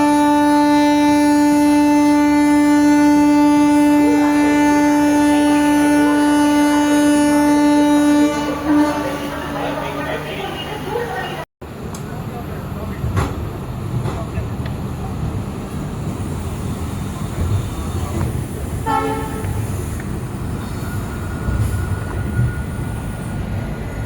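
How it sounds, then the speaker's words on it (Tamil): Yelagiri Express, train 16089, an LHB rake departing Chennai Central, sounds a long steady horn for several seconds, then rolls off with a broad rumble and faint clatter of wagons. "ஸோ நம்ம ட்ரெயின் கிளம்ப ரெடி ஆகிடுச்சு,"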